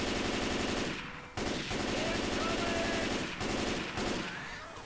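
An M16 rifle fires in rapid, sustained automatic bursts in the video game Left 4 Dead 2, loud and close, with brief gaps between bursts.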